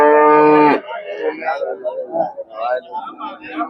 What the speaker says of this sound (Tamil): வெறும் ஜெர்சி மாடுகளாவே நிக்குது பாருங்க